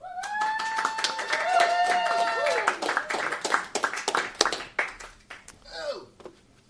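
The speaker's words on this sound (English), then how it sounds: "That was a good clap for yourself there, Tylon." Scattered clapping for a comedian guest on a local late-night talk show, with light irregular hand claps mixed with whoops and voices talking over them.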